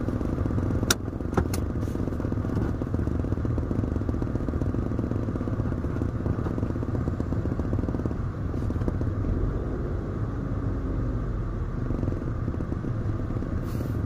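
A car being driven with its air conditioning running, giving a steady low engine rumble and road noise throughout, with a few faint clicks and rattles near the start and no voices.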